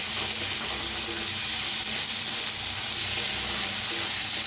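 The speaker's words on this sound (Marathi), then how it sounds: "टमाटरला बी भाजून घेऊया" Onion and tomato frying together in a pan, producing a constant, dense, hissing sizzle at close range with no pauses.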